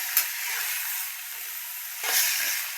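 Soybeans frying in hot oil give off a soft, steady sizzle and hiss that swells briefly near the end, close and alone with no talking.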